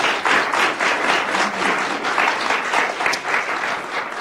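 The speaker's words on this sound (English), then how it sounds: "give them a warm round of applause" Warm audience applause for panelists at a wildlife panel on wolverines, a dense, steady wash of many hands clapping together, sustained and fairly loud with no pause.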